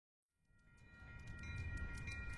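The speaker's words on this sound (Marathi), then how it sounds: "ट्रेनच्या शिट्टीतून वाफेचा फुफाटा बाहेर पडला" A train sound effect for a railway station scene, rising from silence into a growing rumble with tonal whistle-like bands above, swelling louder toward the end.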